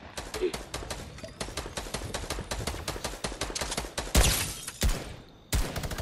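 Rapid gunfire in a battle-royale duos video game, a dense run of sharp close shots in quick bursts with brief gaps, loud throughout, with one heavier blast near the end.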